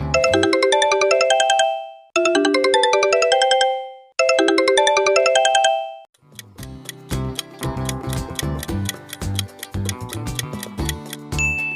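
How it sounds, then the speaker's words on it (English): Sony Ericsson mobile phone ringtone: a short bell-like arpeggio repeated three times with pauses, then a busier electronic tune with a ticking beat, loud and clear with no speech. "Well done, it's Sony Ericsson."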